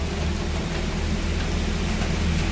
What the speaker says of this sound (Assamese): দেখিছেনে কেনেকুৱা বৰষুণ পৰিছে